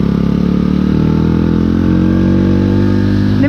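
A Honda Little Cub motorcycle engine running while ridden, a loud, close, steady mid-pitched drone with a rising tone near the end and no voices over it.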